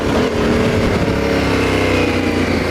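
A Yamaha Tenere 700 motorcycle rides over a small log off-road, its engine holding a loud, steady throttle drone with a slight dip as the bike bounces over the obstacle.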